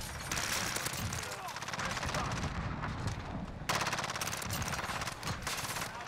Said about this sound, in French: Le bruit de l'arme est vraiment laid.